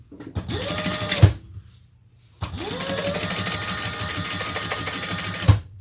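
A sewing machine top-stitches the base of a folded zipper pocket in two steady mechanical bursts, each a few seconds long, with a brief pause between them and no talk.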